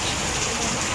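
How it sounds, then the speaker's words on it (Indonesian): Heavy rain pouring down in Jakarta during flooding, a dense, steady hiss of water that fills the whole moment without letup, loud and close. "tadi sekarang hujan ramai sekali"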